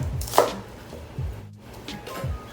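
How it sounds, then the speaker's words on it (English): A knife cuts through an onion thinly on a cutting board, julienne style: several soft, close chopping taps spaced out over a couple of seconds, with no talking. "So you slice it thinly, and that is how you julienne your onion."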